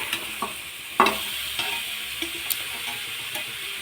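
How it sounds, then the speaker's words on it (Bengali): Jaggery melting in a pan for patishapta filling, stirred with a spoon that gives intermittent taps and scrapes over a low, steady sizzle, heard up close with no voices. "আস্তে আস্তে এটা গলতে শুরু করবে গুড়টা"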